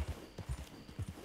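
Horse hooves clip-clopping in Red Dead Redemption 2, a quick uneven run of close, thudding low hoofbeats over about a second, with no talk.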